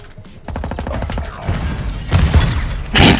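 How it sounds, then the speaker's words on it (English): A suicide bomb going off in a video game: rapid gunshot bursts build into heavy booming blasts, loud and dense, ending in a bright explosive crash. "Did you just suicide bomb him?"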